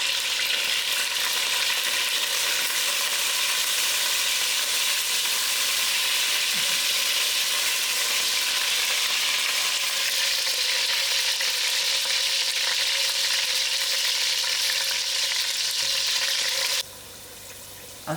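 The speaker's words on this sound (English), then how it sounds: "Firstly, I'm going to put in my potatoes. Just get a little roasted outside." Potatoes frying in oil in a pot, the first step of a one-pot mutton biryani, give a steady, loud, dense sizzle that holds constant for the whole stretch, dropping slightly near the end.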